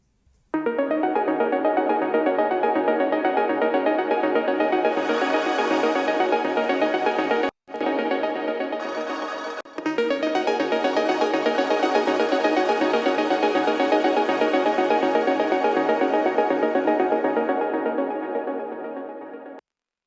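Synth arpeggio run through a crystallizer effect and reverb, a loud, shimmering, dense wash of stepping notes that sustains for about twenty seconds, with two brief dropouts before slowly tapering off.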